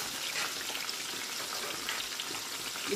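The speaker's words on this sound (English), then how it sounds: "So now we have to fry. I have to give it a nice frying first." Garlic butter chicken breast Kiev frying in a pan gives a steady, close crackling sizzle that holds evenly throughout, with no talking.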